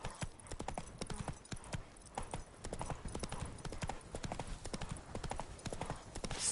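A horse's hooves clip-clop at a quick, regular galloping rhythm in The Witcher 3, fairly close and unbroken, with faint ambient game sound beneath.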